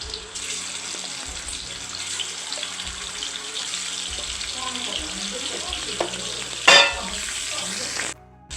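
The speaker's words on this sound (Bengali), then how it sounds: "এখন এখানে একে একে মাছগুলোকে দিয়ে দিচ্ছি।" Fish frying one by one in white cooking oil in a wok, giving a steady close sizzle throughout with a sharp clatter or splash near the end.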